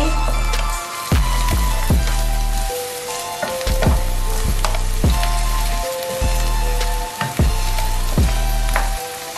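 Spring onions stir-fried in a wok for woku belanga, a steady close sizzle with repeated sharp scrapes and clanks of the spatula stirring in a rough rhythm throughout.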